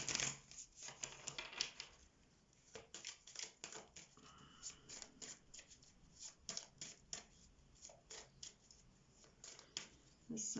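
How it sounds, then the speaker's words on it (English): A deck of Kipper cards gets a quiet riffle and shuffle, a soft papery flicking that repeats in bursts for about ten seconds, with someone talking softly in the background. "Let's give these a little shuffle."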